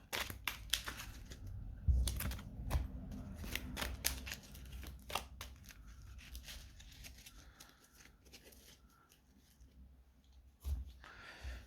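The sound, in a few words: shuffling playing cards, board game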